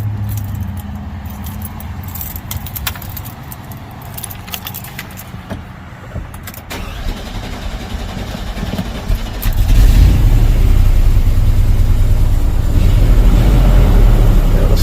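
Keys jangle and rattle near the ignition for several seconds, then a GMC truck engine with roughly 160,000 miles on it turns over and settles into a loud, steady idle close by.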